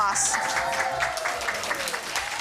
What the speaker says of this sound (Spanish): Aplauso para Pepita, niños.